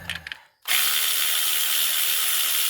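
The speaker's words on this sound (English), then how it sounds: "of course, this is battery operated ratchet." After a brief clatter and a short pause, a battery-operated 1/4-inch drive ratchet with a 10mm socket whirs continuously and loudly up close while loosening a bolt on a 1999 Chevy Tahoe during an EVAP purge valve replacement.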